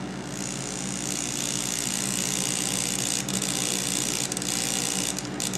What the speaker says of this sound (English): we're going to drill in the center of the hole that we were drilling before.